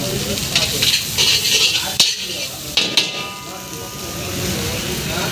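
Hyderabadi fried rice and noodles are stir-fried at a street stall in Hyderabad, with a steady sizzle under continuous metal scraping and the sharp clanks of a spatula against the pan, while voices murmur faintly in the background.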